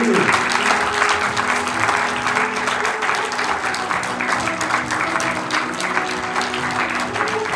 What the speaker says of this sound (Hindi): तालियां जोरदार बजाओ भाई।